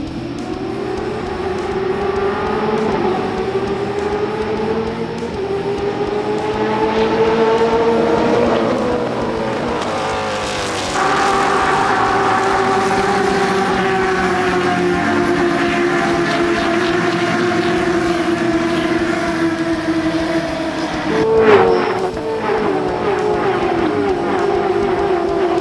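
Stock car engines rev and rise together as a pack accelerates off a race start, a loud continuous drone with climbing pitch and a brief surge near the end, no voices.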